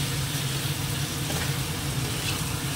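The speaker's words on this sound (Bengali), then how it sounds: "এবার মাংসটাকে দিয়ে দেবো, নিয়ে এটাকে কষাবো।" Marinated meat, cooked with ginger paste and tomato, fries in a pan with a continuous broad hiss and a low steady hum underneath.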